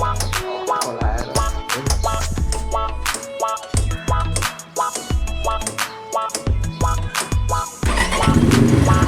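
A motorcycle on an offroad ride being started and revved, with rough, uneven bursts of engine noise and clattering, close and loud, cutting in and out before a steadier run at the end.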